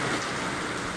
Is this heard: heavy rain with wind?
yes